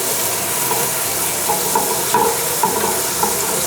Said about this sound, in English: I'm gonna get my onions into the pan. We're gonna saute these guys.